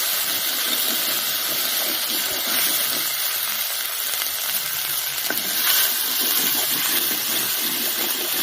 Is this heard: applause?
no